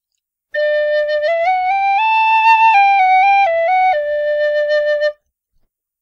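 A single tin whistle played with cold air plays a brief tune solo, clear and close, rising through several notes and settling back to a low note.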